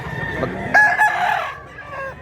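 A rooster crows once, a drawn-out call rising then trailing off, a little distant over steady outdoor background noise.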